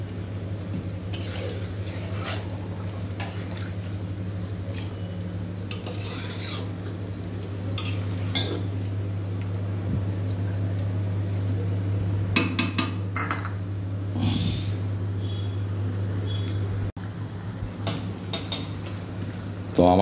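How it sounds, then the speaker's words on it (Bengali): Chicken being stirred with spices in a pan, with a metal spoon scraping and clinking against the pan in irregular taps over a steady low hum. Occasional speech is heard in between. "নাড়াচাড়া করে মশলার সঙ্গে মিশিয়ে নিচ্ছি।"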